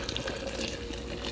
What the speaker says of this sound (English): pour in the French press.